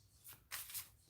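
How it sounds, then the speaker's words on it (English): Tarot cards shuffled in hand, two quick soft riffling bursts, close and faint. "I'm gonna just pull the cards"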